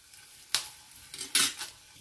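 A metal spoon clinks and scrapes against a pan as stuffed green chillies are roasted, giving two sharp clatters over a faint sizzle in a quiet kitchen.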